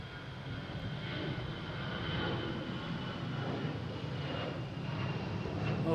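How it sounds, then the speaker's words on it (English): An Airbus A319 jet takes off at Boston Logan International Airport, a sustained broadband engine roar heard from a distance that swells slightly over several seconds. "that was an A319 taking off"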